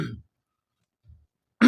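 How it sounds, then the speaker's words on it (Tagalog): A man clears his throat with a short rough burst, then a faint cough follows after a quiet pause, and another loud throat-clearing burst comes at the end, all without speech. "pasensya nyo naman kasi inuubo tayo ngayon"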